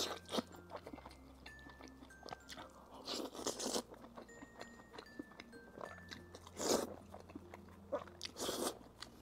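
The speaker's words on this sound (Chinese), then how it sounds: "我把它前面脆骨部分给去掉" Teeth crunch through the crisp cartilage at the end of a charcoal-grilled pork rib, giving repeated close, wet biting and crackling chews over a low steady background hum.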